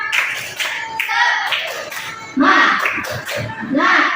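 A class of students claps together in quick rhythmic bursts of a spirit clap, with a teacher's voice calling out in Indonesian between the patterns of claps.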